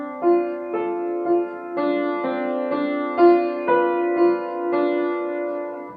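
Piano playing the third line of a ballet class accompaniment with the sustain pedal held, a slow, steady series of sustained chords that ring and blend into each other, close and clear with no talking.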